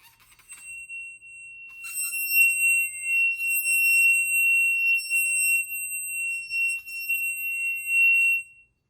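An object stroked by hand in a physics sound and resonance lab rings at its natural tone, a steady piercing pure pitch with overtones that swells in loudness and pulses slightly as the stroking continues, with no talking.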